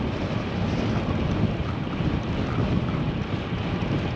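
A headwind on a bicycle ride along a country road roars steadily across the microphone, a loud, continuous rumble with no breaks and no voices.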